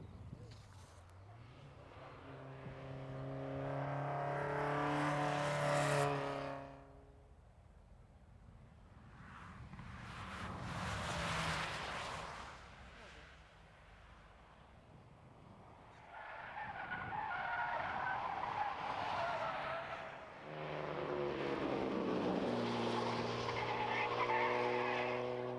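Supercars at a track test day on a wet circuit, engines rising and falling in three long loud passes with tire hiss and spray, separated by quieter gaps of crowd and ambient noise.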